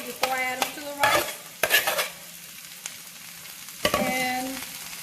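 Greens wilting in a hot skillet for Puerto Rican–style Greek rice give off a soft steady sizzle, interrupted by a few close bursts of stirring and scraping.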